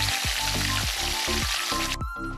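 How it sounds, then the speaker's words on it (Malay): Loud, steady sizzling of anchovies deep-frying in a wok of hot oil, with repeated stirring or scraping sounds, and the bubbling briefly drops off near the end. "ikan bilis goreng juga perlu digoreng di dalam minyak yang penuh supaya teksturnya akan lebih garing"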